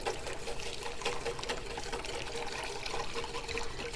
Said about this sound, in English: I'm going to be whisking this while I pour this in.